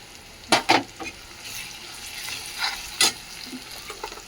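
Onion, tomato and spices sizzle and fry in a pan for a Marathi festive meal, a steady soft hiss broken by a few sharp stirring scrapes and clatters, close up with no talking.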